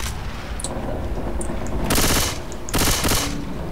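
Dense automatic gunfire in Left 4 Dead 2 comes in two loud sustained bursts over a constant noisy game background, close and continuous with no talk.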